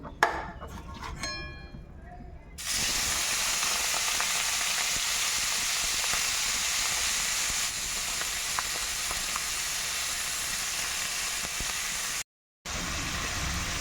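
Boiled snails tossed into hot oil seasoned with salt set off a loud, steady sizzle that starts abruptly after a short quieter lead-in with scraping, then holds close and constant, briefly cutting out near the end.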